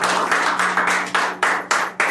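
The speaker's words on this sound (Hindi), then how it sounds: "एक बार मैम के लिए तालियां हो जाए।" A small audience at a Hindi poetry meetup gives a poet a short round of rhythmic clapping. About eight evenly spaced claps sound close and clear.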